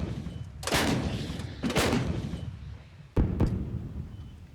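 Field artillery cannon rounds fired at a Marine practice range: two heavy booming blasts about a second apart, each trailing off in a long rumble, then two sharper close reports near the end.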